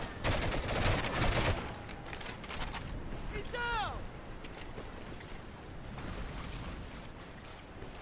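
Enemy gunfire in the Medal of Honor: Heroes video game, a loud rattling burst of rapid shots at the start, then scattered distant shots and battle noise behind a steady windy rumble.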